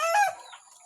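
Chickens give a short burst of clucking, up close and fairly loud at the start, then fading to faint noise.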